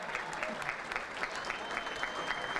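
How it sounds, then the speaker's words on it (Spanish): Crowd applause for the champions of a women's football tournament at Club Guaraní Antonio Franco, a sustained patter of many hands clapping at moderate distance, steady and unbroken for the whole stretch. "Fuerte el aplauso para las chicas, campeonas del torneo femenino Héctor Chino Torres"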